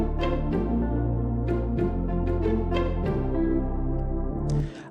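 A deep, heavy Afrobeats bass line thumps through a dense mix of pulsing synth chords, steady and loud, changing notes every second or so, with no voices.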